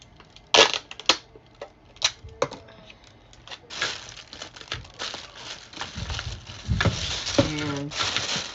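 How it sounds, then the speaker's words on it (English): Tape pulled and pressed onto a giant homemade lollipop decoration, giving a run of crinkly tearing and sticking sounds with sharp taps, close and fairly quiet, growing into longer rasping strips near the end. "Then I'm going to tape it."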